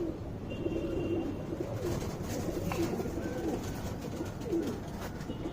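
A tournament racing pigeon cooing, soft low repeated coos close by against a steady background hiss of ambient noise.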